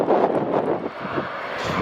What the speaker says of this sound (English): Again, you can hear, folks, it's getting quite windy.